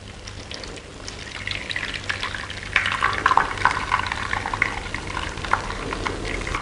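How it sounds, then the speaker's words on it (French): Fairly hot water is poured over raw zucchini spaghetti, a steady close splashing and trickling that grows a little fuller midway, with no talk. "on va verser de l'eau relativement chaude sur nos spaghettis"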